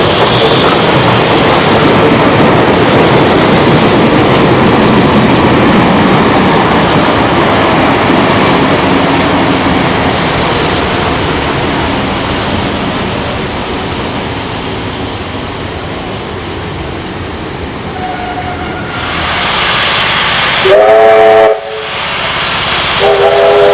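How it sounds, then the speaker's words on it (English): A pair of steam locomotives departing Bowral station in New South Wales roar with loud, steady steam hiss and chuffing, then a brief, shrill steam whistle blast rings out near the end. "After dropping off passengers, the two locomotives now make their way to Robertson."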